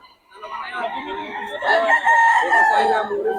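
A Boston Roundhead rooster crows at a market, one long, loud, close crow that rises and holds its strained harmonic call to the end.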